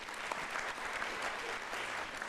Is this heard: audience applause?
yes